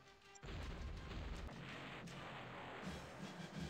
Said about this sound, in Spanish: Tengamos un par de cañonazos.